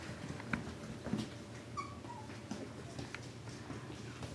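Young F1b mini Bernedoodle puppies whimper and yip softly, a few faint high whines scattered over a low background hum, with no talk.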